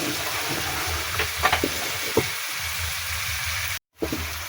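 Fried pieces of bata fish go into a hot pan of oil for a spicy fish curry, giving a steady broad sizzle with a few sharp clatters of stirring, then a brief cut to silence before the frying resumes.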